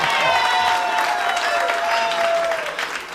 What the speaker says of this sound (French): une main d'applaudissement